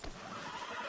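A horse whinnies briefly and loudly in a PS4 video game, a single short neigh over a busy background of game ambience.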